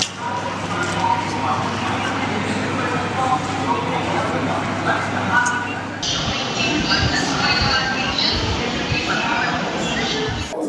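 The 12603 Hyderabad Superfast Express rolls from Chennai toward Hyderabad with a continuous rumble and rhythmic clatter of wheels on rail, heard from on board, loud and steady, with talk over it.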